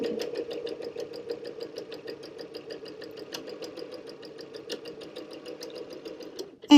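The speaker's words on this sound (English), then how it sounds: "So one more time, fabric under, foot pedal down," A sewing machine stitches fabric with the foot pedal pressed, giving a fast, even mechanical whir with regular needle ticks that runs steadily close by, then cuts off at the end.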